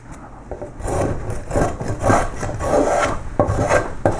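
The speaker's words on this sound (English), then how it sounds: "Or we can go straight to a spokeshave like this." Spokeshave shaving the wooden body of a carved koi carp with long downhill strokes, giving a steady run of close, rasping cuts with brief pauses between them and no talking.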